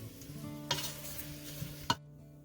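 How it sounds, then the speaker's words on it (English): Salt-and-pepper-seasoned sirloin tip roast pieces sizzle quietly in a pan as a utensil stirs them, with a low steady hiss broken by two sharp scraping clinks, then sudden silence at the end. "Give it another stir and get ready for plating"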